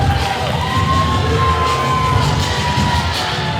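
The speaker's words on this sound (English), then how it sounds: "The crowd is electric here for our main event" A wrestling arena crowd cheers and shouts before the main event, a steady, loud roar of voices with a few yells and whoops rising over it.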